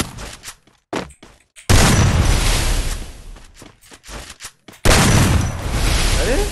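Gunfire in a shooting video game: a few sharp separated shots at first, then two bursts of loud, sustained automatic fire with dense rattling, close and dominant.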